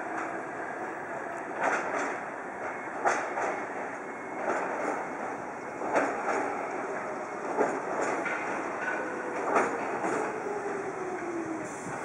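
A two-car train rolls along platform 4 at Meitetsu Chiryu Station with a steady rumble and periodic clattering wheel thumps every second or so, mid-distance, with faint squealing.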